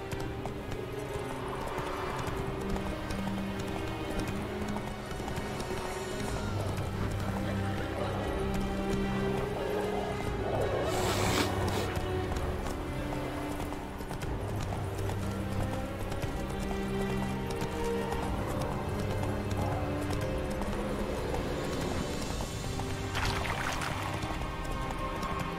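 Hooves of the horse Roach galloping in The Witcher 3, a steady clip-clop running continuously under a constant wash of game music and ambience, with occasional brighter swells but no clear voices.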